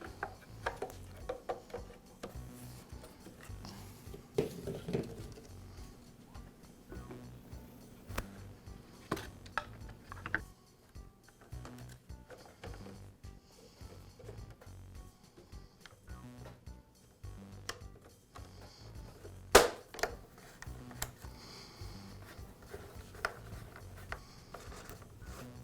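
Plastic housings of a Husqvarna leaf blower being refitted during a switch repair, with scattered close clicks, taps and ratchet-like rattles, one sharper snap near the end, and no talking.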